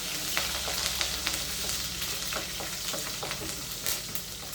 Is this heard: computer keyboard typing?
no